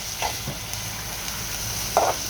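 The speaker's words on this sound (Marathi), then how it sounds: "आणि कांदा चांगला परतून घ्यायचा आहे।" Onion sautés in a pan with a soft constant sizzle and a couple of brief scraping stirs, close and moderately quiet with no voices.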